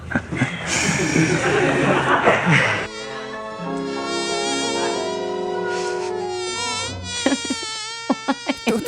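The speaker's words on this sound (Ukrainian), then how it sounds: "Ви що, найняли цих мух? Їхня задача літати перед нашими обличчями, коли ми знімаємо?" A fly buzzes in front of faces during filming on a movie set, a close, wavering whine heard in bursts. Laughter and a hammer-like knocking come in near the end.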